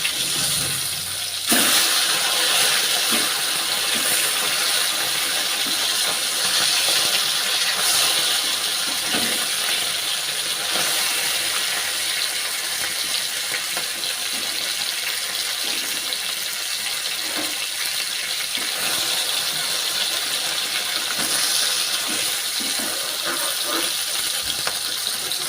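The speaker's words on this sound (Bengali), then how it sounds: "তো চলো মাছগুলো ভাজা হোক।" Fish frying in a pan, a steady dense hiss and crackle of hot oil running throughout, close and fairly loud with occasional small pops and clinks.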